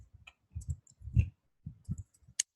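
Scattered clicks of typing on a computer keyboard, loose clusters of close taps with short pauses between them, and nobody talking.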